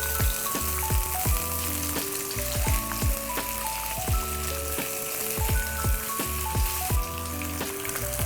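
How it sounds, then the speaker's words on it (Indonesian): Slices of chicken luncheon meat frying briefly in a little oil, giving a loud, steady sizzle with frequent sharp pops and crackles throughout, alone without talk. "Kita mau goreng. Gorengnya sebentar aja, jangan kelamaan."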